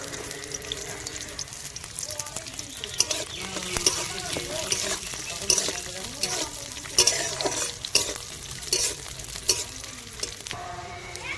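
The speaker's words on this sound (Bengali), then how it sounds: "এতে আছে কাজু বাদাম, কিশমিশ, বাদাম, চীনা বাদাম। এবার এগুলো ভেজে নেব।" Cashews, raisins, peanuts and other nuts fry in a pan, with a moderate sizzle, scraping stir strokes and occasional clinks running throughout, the oil crackling at a fairly low level.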